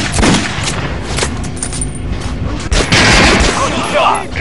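Gunfire at a shooting range in Metro Last Light, loud close shots and rapid bursts with clattering weapon mechanics, over a voice giving instructions.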